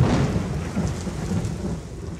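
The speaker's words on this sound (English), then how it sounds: "And listen, Lippy, thunder." Rumbling thunder rolls through a rainstorm, a loud, continuous low boom with steady rain noise beneath it and no voices.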